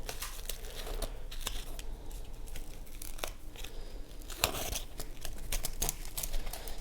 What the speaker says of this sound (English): you're going to cut 2 3-foot pieces of each color of your cord